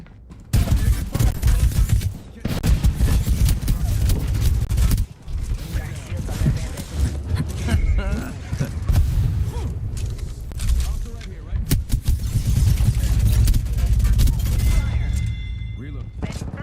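Rapid gunfire bursts and explosions from a shooter video game fill the stretch, loud and nearly continuous with brief pauses, while a player talks over the action.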